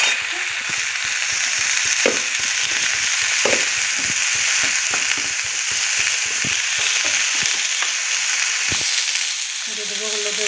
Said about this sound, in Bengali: এখন একটু বেশি বেশি করে সবজিটা রান্না করছি।